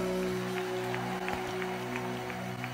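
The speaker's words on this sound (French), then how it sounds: "Applaudissez pour les chantres, pour la chorale." Church congregation applauding the cantors and choir, a steady wash of many hands clapping at moderate distance over a constant electrical hum, with no talking.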